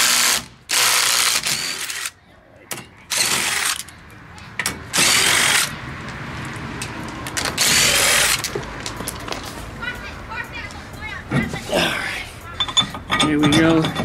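Power tool driving screws on the custom Porsche 944 parking brake fitted to a 1956 VW Beetle, heard as several loud, short whirring and ratcheting bursts separated by pauses, with someone talking in between.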